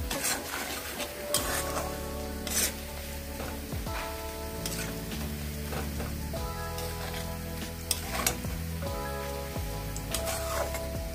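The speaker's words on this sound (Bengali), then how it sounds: "পেঁয়াজ রসুনটা আমি ভালো করে ভেজে নিয়েছি।" Chopped onion and garlic fry in a pan of oil for a fish curry, with a soft, steady sizzle and the scrape and clink of a spoon stirring, beneath a melodic tonal background.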